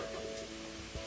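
Onion frying on low heat in a wok, a faint, steady sizzle with a soft stir or two beneath it, quiet and even throughout.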